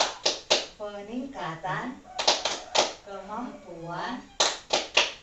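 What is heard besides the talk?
rhythmic group hand clapping chant (tepuk FDS)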